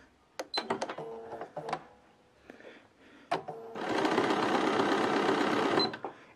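A home sewing machine stitching orange peel patterns, starting with a few scattered clicks and short bursts before a sustained, loud whirring run of rapid stitching for about two seconds that then stops.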